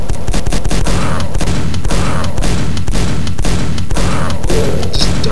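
Loud, constant explosive fire in the video game Quake as sniper enemies launch grenades, a run of heavy booms and blasts with little pause between them and no speech.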